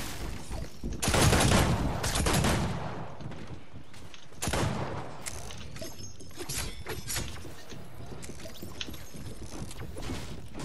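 Rapid bursts of submachine gun fire in the video game Fortnite, loud harsh clusters of shots with sharp cracks, strongest early and around the middle, followed by quieter scattered shots and game noise.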